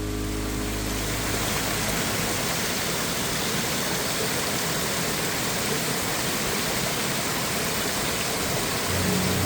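Chumi Gyatse waterfall in Arunachal Pradesh roars as a constant, dense wash of falling water, loud and close, with no voices.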